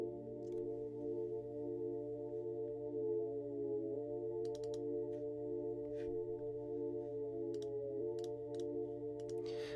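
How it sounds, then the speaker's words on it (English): Sustained electronic synth pad from a remix, holding a steady chord that slides in pitch at bar ends, with faint scattered clicks over it, alone. "We've got this pad sound,"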